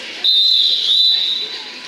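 A referee's whistle at a roller derby bout gives one long, loud, steady blast, slightly wavering in pitch, over faint crowd murmur in a large venue.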